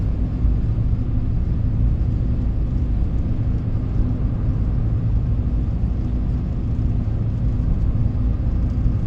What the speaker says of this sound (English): Right now, I hear the wind blowing by the car.